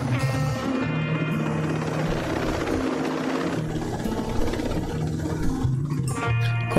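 Helicopter in the video game Tom Clancy's Ghost Recon, a loud continuous rotor and engine drone with a steady whine and no talk over it.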